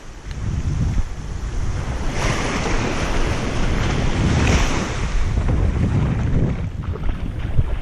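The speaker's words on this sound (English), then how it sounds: "You gotta wait for some waves and then surf them in." Ocean surf rolls and breaks on a summer beach while snook fishing, a loud continuous wash with swelling crashes and heavy wind buffeting the microphone throughout, no voices.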